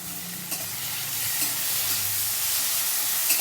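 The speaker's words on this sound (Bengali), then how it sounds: "আমি আবারও এইগুলো ভালো করে কষিয়ে নেবো, কাঁচা গন্ধ যাওয়া পর্যন্ত" Garlic, cumin and ginger pastes with chili powder sizzle and fry in a pan for a ridge gourd curry, a steady close hiss broken by soft scraping stirs, with no voices.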